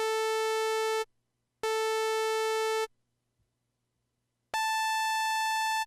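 A bright, buzzy Behringer Model D analog synthesizer oscillator tone sounds in three sustained bursts separated by silence, the last one pitched slightly higher than the first two.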